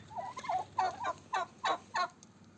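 A turkey gobbles in a rapid rattling series of about six bursts, fairly faint and at a moderate distance.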